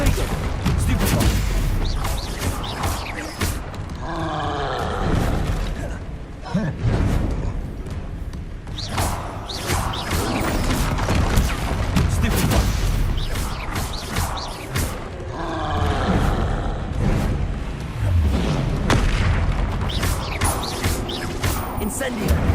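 Spell effects cast in rapid succession in the Hogwarts Legacy video game, a dense run of booming bursts and roaring blasts over music, with a voice shouting spell names throughout.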